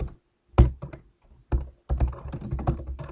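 Typing on a computer keyboard: a few loud, close key thunks, then a quicker burst of clacking keystrokes near the end, with no talk.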